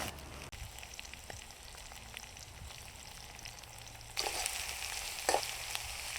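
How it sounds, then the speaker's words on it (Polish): Steady sizzling of roughly chopped ingredients for a Chinese-style dish frying in a pan, with a few clinks and a brief louder crackle partway through. "i smażymy."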